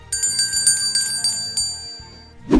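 A notification bell sound effect rings in a quick series of bright, metallic dings, about six strikes in rapid rhythm, loud and isolated, ending with a short swoosh.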